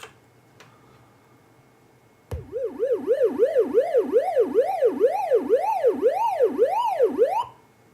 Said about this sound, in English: Let's listen to the siren sound.